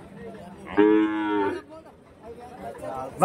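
At a big Friday cow market in Kundarapalli, Krishnagiri district, one cow gives a single loud, close moo lasting under a second. Murmuring voices and market bustle continue faintly around it.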